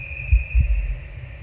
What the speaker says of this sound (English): And this one also has a heartbeat.